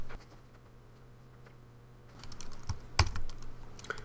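Keys on a computer keyboard typed for a Raspberry Pi terminal command: quiet, sparse taps at first, then a louder burst of quick clicks near the end, close to the mic with a low steady hum beneath.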